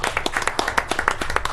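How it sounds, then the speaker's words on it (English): Close, brisk hand clapping from an audience at a township supervisors' meeting, individual claps clearly separated in a quick uneven rhythm for a short burst. "So we just give a quick round of applause."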